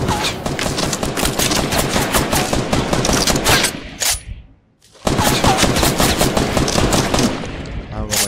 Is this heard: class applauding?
no